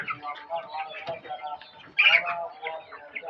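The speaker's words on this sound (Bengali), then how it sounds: "মুরগি" Chickens in a poultry farm cluck in short, irregular bursts close by, with one louder squawk midway, while a person talks over them.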